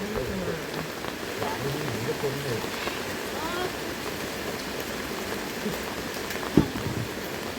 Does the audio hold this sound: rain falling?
yes